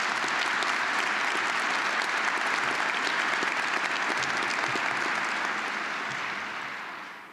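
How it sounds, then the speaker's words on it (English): Sustained audience applause at a fall university engineering commencement ceremony, a dense even wash of many hands clapping that holds steady and fades out near the end. "can we still get one last round of applause for all those people as well?"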